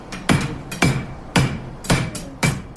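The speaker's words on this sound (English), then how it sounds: "takes a hammer and pounds the metal down on an anvil" Blacksmith's hammer striking hot metal on an anvil, five sharp ringing blows at an even pace about half a second apart, each leaving a brief metallic ring, close and clear with no voices.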